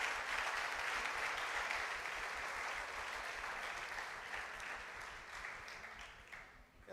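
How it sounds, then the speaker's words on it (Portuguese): A church congregation applauds during an evening service, a dense wash of many hands clapping that sounds rather distant and faint, holding steady before gradually tapering off toward the end. "Dá uma linda salva de palmas para Jesus aqui nessa noite."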